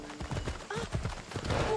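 Horse hooves gallop in Assassin's Creed Odyssey, a quick clip-clop rhythm close by under a faint voice and game sounds.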